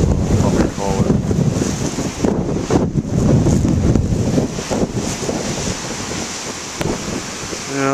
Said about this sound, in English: I was hoping the waves would be bigger today